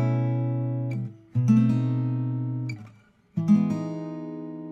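Electric-guitar-style chord, clean and sustained, voiced with the top two fingers moved down a semitone while two notes stay anchored, a jazz-flavoured movement; three strummed chords ring out in turn, each decaying before the next.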